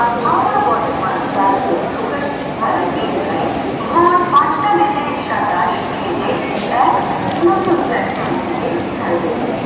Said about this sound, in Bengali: হাওড়ার 21 নম্বর প্ল্যাটফর্মে ট্রেনটা ঢুকছে